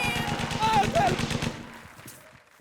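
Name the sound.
gunfire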